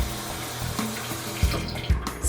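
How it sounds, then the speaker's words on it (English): Tap water running into a pot of washed rice, a steady splashing stream with a few louder gurgling bursts as the pot fills, close by. "Now we are going to add some water"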